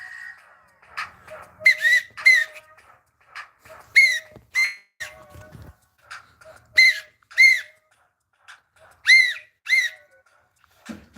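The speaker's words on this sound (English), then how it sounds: "Blow the whistle." A whistle is blown in a series of sharp, loud blasts, some short and some longer, coming in irregular bursts with quiet gaps between them and no talking.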